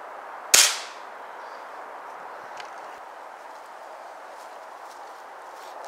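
A single sharp crack from a Gamo Varmint air rifle fired at a target outdoors, loud and close, followed by a quiet background hiss.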